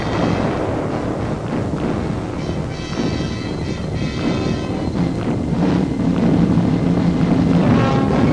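A V-1 flying bomb in flight near an anti-aircraft gun battery gives a rough, continuous pulsing drone with a windy roar, steady and fairly loud throughout without voices.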